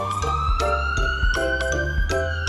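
A cartoon ambulance siren wails, a loud electronic tone sweeping in repeated cycles, joined by short rhythmic pulses and a bouncy background beat.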